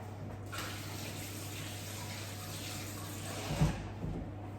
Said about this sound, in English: I'm just going to rinse my hands before I sort the eggs out.